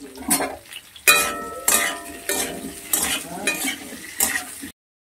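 Beans and potatoes fry in a pan, sizzling softly while a utensil scrapes and clatters against the metal in several distinct stirring strokes, close and fairly loud, ending abruptly in silence.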